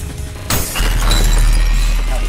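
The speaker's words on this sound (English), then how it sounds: "I say as I blow up all of the glass panes" Glass panes shatter in the video game Ultrakill with a sudden loud crash, then a bright spray of tinkling shards over a heavy low rumble of game noise.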